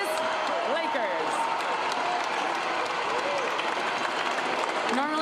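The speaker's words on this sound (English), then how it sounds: "Normally the applause is much louder" Applause greets the Los Angeles Lakers as Western Conference champions after beating the Denver Nuggets, a steady wash of clapping and crowd noise with whistles and cheers rising through it and voices over the top.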